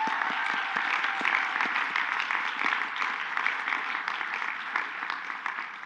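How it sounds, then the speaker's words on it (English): Sustained applause from a large crowd at a college commencement, dense clapping that holds steady for several seconds and fades slightly toward the end. "Join together in a round of applause for General Colin Powell."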